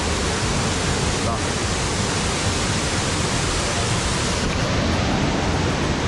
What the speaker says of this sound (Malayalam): അതുപോലെ നല്ല വെള്ളച്ചാട്ടമാണ്